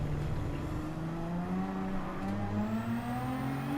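A GT1 race car's engine revs and climbs through the gears on the Spa circuit in Gran Turismo 7. The engine is close and loud, with a rising, whining pitch across a few seconds and no voice over it.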